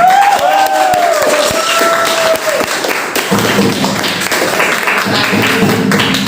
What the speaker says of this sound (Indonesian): Beri tepuk tangan yang banyak untuk semuanya.